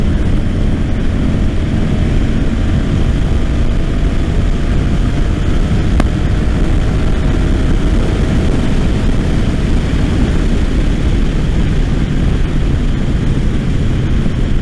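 Honda Silverwing GL500 motorcycle cruising in top gear, a steady, loud engine and wind roar that holds constant throughout with no breaks.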